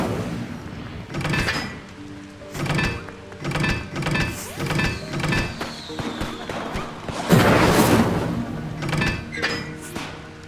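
Repeated casts of the Incendio fire spell in Hogwarts Legacy, a series of whooshing flame bursts and thuds spread across the clip, with one louder blast near the end.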